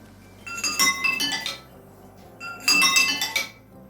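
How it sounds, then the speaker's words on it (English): Pencil gently tapping a row of glasses holding different amounts of water, producing bright ringing clinks in two quick runs of several taps each, separated by a short pause, clear and close. "The pencil is tapped gently on each of the glasses one by one"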